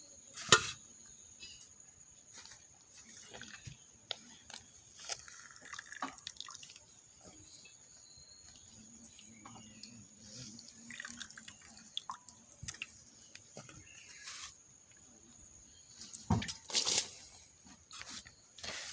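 Water squeezed by hand from soaked soya chunks drips and trickles into another vessel in faint, scattered drops and splashes, with a slightly louder burst near the end.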